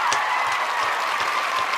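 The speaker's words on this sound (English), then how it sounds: "one last final round of applause for the one and only Rick Clunn" A crowded audience gives a sustained round of applause for pro bass angler Rick Clunn: dense, steady clapping throughout, with no talk over it.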